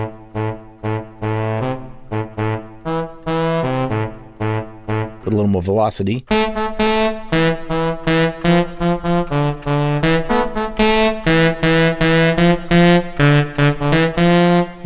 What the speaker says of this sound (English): the only saxophone sound that I could find that was built in to these VST-ish plugins was one that they called tenor sax